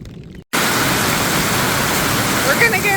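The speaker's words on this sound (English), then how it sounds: "Hopefully this rain passes soon." Rain falling steadily over a garden plot, a dense, even hiss of drops that starts abruptly after a short quiet moment and continues loud and unbroken.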